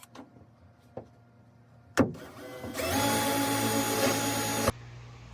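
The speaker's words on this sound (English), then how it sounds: "First hole in the fiberglass top." A power tool bores the first hole through a van's fiberglass roof: a few knocks, then a loud, harsh continuous whine of cutting lasting about two seconds before it stops abruptly.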